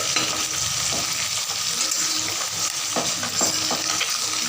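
Oil sizzles steadily in a pan as a utensil scrapes and stirs through frying vegetables such as green banana and potato, with a few louder clacks of the spoon against the pan.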